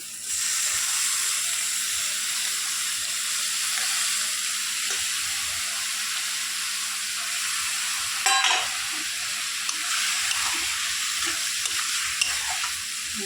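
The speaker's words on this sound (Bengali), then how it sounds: "পেঁয়াজটা একটু ভেজে নিয়ে" Chopped onion with cumin frying in a pan, a continuous bright sizzle with occasional stirring scrapes and a brief utensil clatter midway, no voices.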